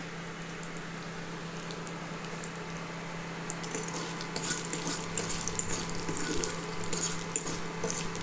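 Dried red chillies, peanuts and curry leaves fry in hot oil, a steady close sizzle with soft stirring scrapes and crackles that grow busier toward the end, no voices.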